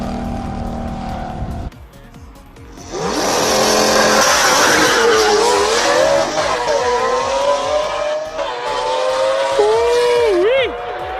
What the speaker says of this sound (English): Also another epic sounding car up the hill.